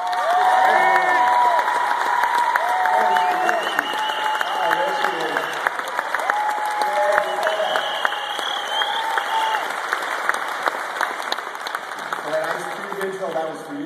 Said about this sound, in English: give a big round of applause for your buyer, your teammate, Beretta Banks